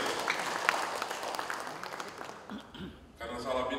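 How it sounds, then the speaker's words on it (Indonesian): Scattered applause from attendees at a West Papua provincial parliament session, moderate and somewhat distant, fading after a few seconds as a voice and other room sounds take over. "Minta tepuk tangan dulu untuk yang ini"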